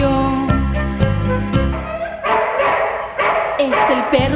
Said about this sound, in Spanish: Escuchemos al perro de Don Belisario, que está ladrándole al comisario.